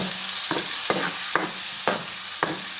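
Garlic paste sizzles steadily in a hot pan while a spoon scrapes through it in five evenly spaced, sharp strokes, close and clear with no voices.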